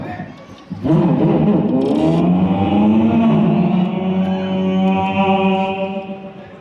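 A performer at a Latur college event mimics a sport bike engine with his voice, a loud, continuous revving drone that rises and holds steady for several seconds before tapering off.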